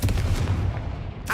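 A Confringo fire spell blasts off in Hogwarts Legacy, a loud, deep booming rumble that holds steady for over a second, then ends in a sharper crackling burst.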